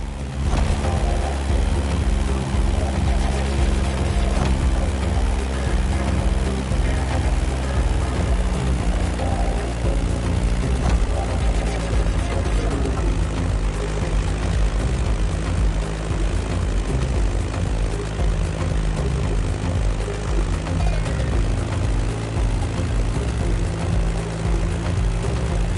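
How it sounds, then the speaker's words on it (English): Beechcraft Staggerwing propeller plane in The Crew Motorfest, its engine droning loud and unbroken throughout with a steady, rough propeller hum. "Beechcraft Stagger Wing is truly a beautiful piece, isn't it? And a great choice for that flight."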